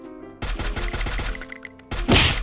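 Rapid burst of gunshots in a shooting video game, about a dozen sharp cracks in quick succession followed by a louder blast, with no talking.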